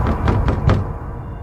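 Four loud, evenly spaced knocks on a door as a horror story sound effect, heavy low thuds in quick succession followed by a quiet, dark room tone.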